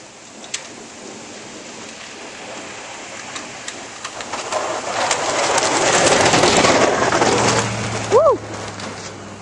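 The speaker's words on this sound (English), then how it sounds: "There goes the plow." A snow plow clears a road during a severe snowstorm and ice storm, a broad scraping rumble that swells to a loud peak in the middle before easing, with a short rising tone near the end.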